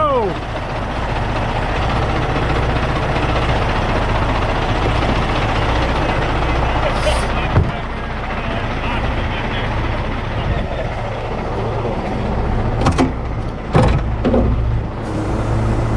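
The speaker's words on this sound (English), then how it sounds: "That's a goofy forklift." A worn-out forklift's engine runs at a steady, rumbling idle throughout, a constant low drone close by with voices talking over it.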